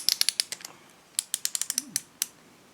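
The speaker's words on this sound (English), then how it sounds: "This is a 3/8 drive torque wrench" A 3/8 drive torque wrench ratcheting in a garage, giving crisp close clicks in two quick runs with a short pause between, and no talk.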